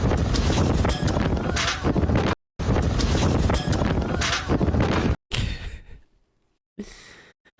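Strong wind buffeting a microphone in loud roaring gusts, cutting out briefly twice and fading to near silence near the end.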